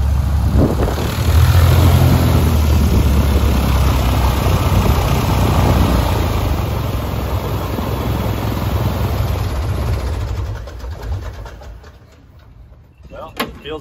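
A modified Carbon Cub light aircraft runs its engine and propeller in a loud, close, steady drone that fades away near the end, with voices talking over it.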